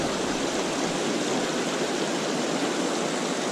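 A small backyard creek runs over rocks in a continuous, even rushing babble, close and steady, with no voices.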